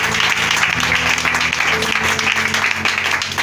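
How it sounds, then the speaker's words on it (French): A church congregation applauding, loud dense clapping sustained evenly from start to finish with a few voices mixed in. "Donne-le encore une grande acclamation."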